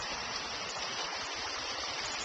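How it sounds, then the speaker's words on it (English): A flooded creek behind a house runs fast after a big rainstorm: a continuous, fairly soft broadband rush of churning water with no pauses or other sounds. "So this is the creek behind our house."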